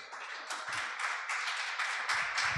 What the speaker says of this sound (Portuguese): Levanta, aplaude ao Senhor.